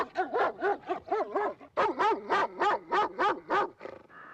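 Dogs in a 1971 British folk horror film bark and yelp in a fast, loud run of about a dozen calls, some pitched and whining, ending in a brief trailing whimper.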